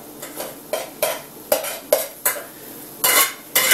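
Cooked brown jasmine rice, made in a rice cooker, being served onto a plate: a run of sharp utensil scrapes and taps, about ten in irregular rhythm, close and fairly loud with no talking.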